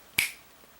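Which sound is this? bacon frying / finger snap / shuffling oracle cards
finger snap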